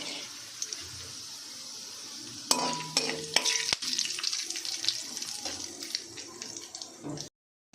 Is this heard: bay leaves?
yes